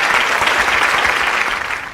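Studio audience applause for a student quiz contestant, a dense and loud burst of many hands clapping together that holds steady and then begins to fade near the end.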